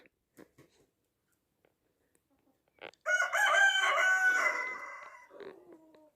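A rooster crows loudly once, a long rising and falling call lasting a few seconds after a quiet stretch with faint scattered sounds.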